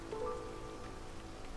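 Rain pattering steadily in the video game Against the Storm, a soft, faint, continuous hiss of drops on surfaces with a light tonal blip near the start.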